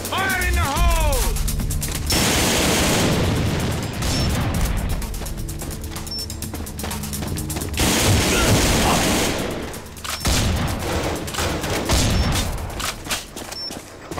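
Explosive charge detonating in the video game AvA, a loud blast amid sustained gunfire and crashing impacts, with game voice chatter mixed in.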